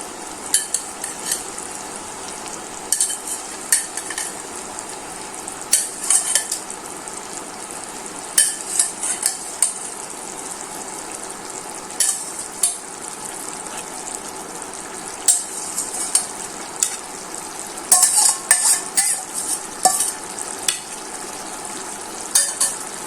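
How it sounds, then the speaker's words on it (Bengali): River poa fish frying and being stirred in a pan of spiced oil for a Bengali fish bhuna: a steady close sizzle with repeated scraping and clinking stirs throughout. "এখন একে একে মাছগুলো দিয়ে দিচ্ছি।"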